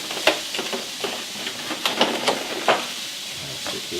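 Food sizzles and hisses in a non-stick pan with scattered stirring scrapes and taps, steady and close, with a voice talking over it at times.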